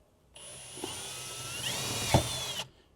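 A small drill bit bores holes in a Land Cruiser rear window MOLLE panel, a close, high-pitched drill whine lasting about two seconds with a brief bump as the bit bites through.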